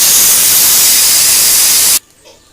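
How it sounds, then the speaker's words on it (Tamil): A pressure cooker on a stove whistles while cooking coconut for a Kerala-style dish, a loud steady hissing jet of steam that cuts off abruptly, leaving near silence. "2 விசில் வந்துடுச்சு."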